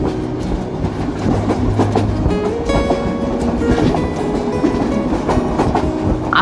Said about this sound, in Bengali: এখন আমাদের ট্রেনটি নবনির্মিত ঢাকা এলিভেটেড এক্সপ্রেসওয়ের নিচ দিয়ে যাচ্ছে।